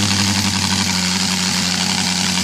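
An OS 320 Pegasus twin-cylinder model aircraft engine with uneven-fire CDI ignition runs on gasoline, giving a loud, steady, close-up drone with no breaks or talk.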